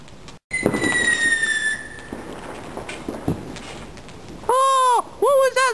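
Bonfire Night fireworks outdoors: a bright rising whistle streaks skyward, scattered crackles and pops follow, then two loud warbling whistles close by near the end.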